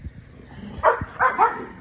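Dogs at a boarding kennel bark and growl close by, three sharp barks over a low growling rumble.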